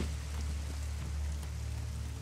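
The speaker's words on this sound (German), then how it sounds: "Ach, der Regen. Zu viel." Steady rain in the video game Elex, a continuous even wash of hiss with a low rumble beneath, constant in level and heard alone without voices.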